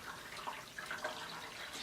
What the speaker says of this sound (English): you just keep pouring the water in the concentric circles so that way it all equally comes down onto the grounds